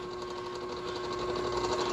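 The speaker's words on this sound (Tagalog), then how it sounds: "napakaingay po ng ating electric fan" A noisy electric fan runs in a kitchen with a steady, loud mechanical whir and a constant buzzing hum, rising slightly toward the end.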